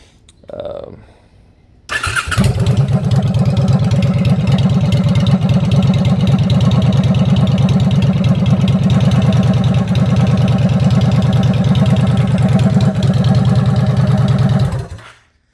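A Honda Shadow Aero 750 bobber motorcycle, carbs rejetted after exhaust and intake mods with the air-fuel mixture needle two turns out, cranks and fires up after a brief starter whir, then idles loudly with a steady thumping rhythm until shut off.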